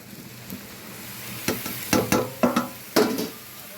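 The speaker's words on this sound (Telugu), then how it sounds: "ఇప్పుడు ఇలా వేగిన వాటిల్లోకి నీట్గా క్లీన్ చేసి పెట్టుకున్న మన మష్రూమ్స్ ఉన్నాయి కదా వేసేస్తున్నా చూడండి" Mushrooms dropped into a pan of frying masala give a low steady sizzle, broken by five or six sharp scraping stirs in an uneven rhythm, close by and with no voices.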